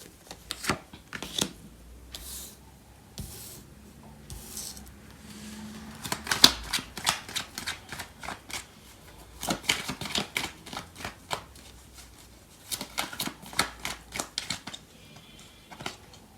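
Tarot cards being shuffled and handled during a love reading, giving a quiet, close series of papery riffles, flicks and slaps that come in irregular bursts, with no talking.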